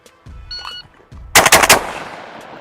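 A Remington V3 Waterfowl Pro semi-automatic shotgun fires three loud, quick shots in close succession, each sharp blast trailing into a fading echo after some quiet handling noise.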